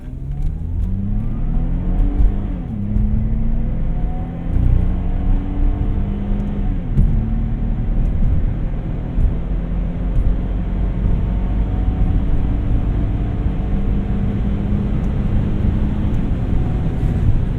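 Saab 9-3 Aero XWD in automatic mode revving hard under acceleration, engine note climbing steadily as it holds third gear for a long stretch, loud and continuous with no talking.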